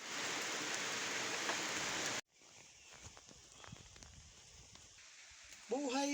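Steady rain falls on an outdoor path for about two seconds, loud and even, then gives way to quieter scattered drips and rustling, with a brief voice near the end.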